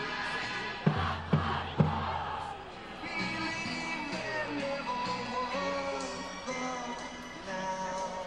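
A high school football game between the Brickies and the Trojans: a student section crowd getting loud, a sustained roar of voices mixed with music and a few sharp bursts near the start.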